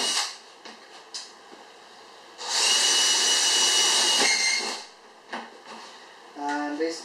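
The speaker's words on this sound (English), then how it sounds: "Basically what you're just going to do is go through and drill out sections." A handheld power drill bores holes through the side of a reptile cage, a loud sustained whine lasting a couple of seconds, framed by softer brief bursts and handling clatter.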